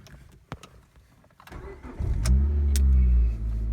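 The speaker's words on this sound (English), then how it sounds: "We'll start the car." A car engine cranks briefly after a few clicks, catches and settles into a steady, close idle, with no talk over it.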